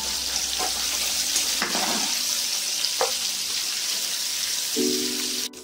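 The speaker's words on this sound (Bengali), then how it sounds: "পনিরগুলো হালকা করে ভেজে নিয়েছি, এবার তুলে নেব" Paneer cubes fry lightly in hot oil with a steady sizzle, broken by a few sharp stirring scrapes and a brief low hum near the end.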